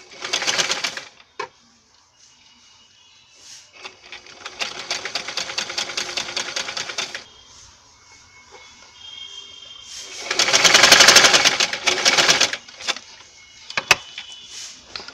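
A sewing machine stitches bias piping onto cloth in several separate bursts of rapid mechanical chatter, with quiet pauses between runs and a couple of sharp clicks, close and fairly loud.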